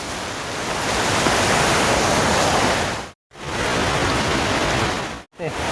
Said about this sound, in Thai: มีน้ำตกเล็กๆด้วย